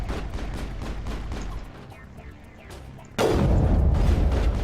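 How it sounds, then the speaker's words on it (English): A sniper rifle fires in the Mass Effect video game amid sustained battle noise, with a heavy, loud shot and boom rolling out near the end over the continuous combat din. "Let's try the sniper rifle."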